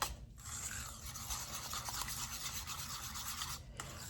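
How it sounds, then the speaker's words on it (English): Milk and flour whisked together in a bowl for a chile rellenos casserole make a continuous soft scraping and rubbing, close and quiet, with no talk. "We're going to whisk this together."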